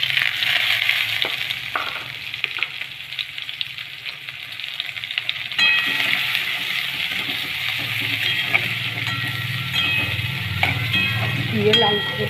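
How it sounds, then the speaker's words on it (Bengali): Bay leaves and onion dropped into hot oil in a pan, giving a loud sudden sizzle that keeps crackling steadily, with occasional stirring scrapes and clicks of the spoon; a voice speaks briefly at times. "এবারে ফোড়নে দিয়ে দেবো 2টো তেজপাতা। দিয়ে দেবো পেঁয়াজ।"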